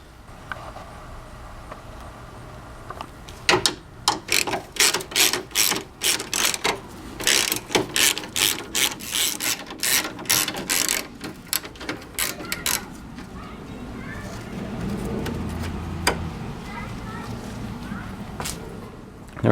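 Clicking ratchet work on screws at the top of a 1994 VW Jetta MK3 fender, a close run of rapid, sharp ratcheting clicks that comes in bursts and then fades into low shuffling.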